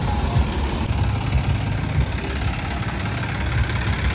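A 9500 tractor engine idles steadily at close range, a continuous low rumbling drone with a faint knocking pulse throughout and no talk.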